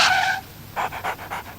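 A small dog pants quickly and close by, giving five or six rhythmic breaths after a brief high sound at the start.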